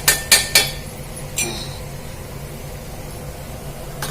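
A metal spoon stirs coconut and jaggery stuffing cooked with ghee in a frying pan for fried modak. Three quick clinks come in a row, then one more, over a faint steady hiss.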